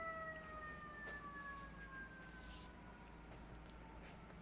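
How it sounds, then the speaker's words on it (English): An ambulance siren passing outside, a wailing tone gliding downward as it recedes, faint and distant against a steady background hum. "I'm going to wait for this Yeah. ambulance to go down before I get to the goods."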